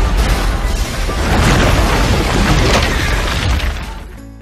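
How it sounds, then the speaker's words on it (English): A thunderous movie-style explosion played through a Sub 5 wireless subwoofer in a living room: a loud, deep rumbling blast with crackling debris, swelling over a few seconds and then fading. "Now the most thunderous explosions happen right in your living room."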